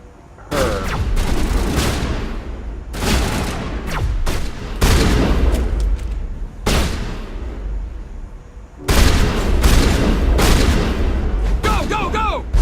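Bursts of gunfire from the video game Mass Effect, loud, dense volleys in several separate waves with brief gaps between them, alongside game sound.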